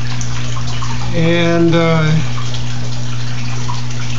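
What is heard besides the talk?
water flowing through fish tank spin filter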